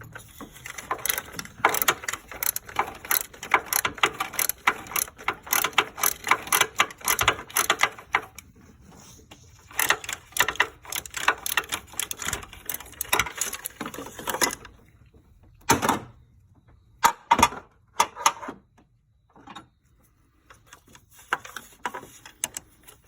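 Ratchet turning a socket on a roughly 3-inch stubby extension beneath a radiator hose of a 2012 Impala police package engine bay, giving bursts of rapid clicking that pause and resume, close and fairly loud, ending in scattered single clicks.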